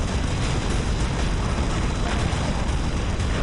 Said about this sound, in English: Killing several models with just one explosion.